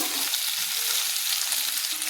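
Potatoes frying in hot oil for a Bengali fish curry, a steady close sizzle with light spatula stirring throughout, no talk.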